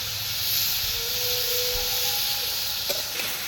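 Minced chicken sizzles in a hot pan for chowmein, giving a steady, loud hiss with a faint tonal whine and a small clink near the end.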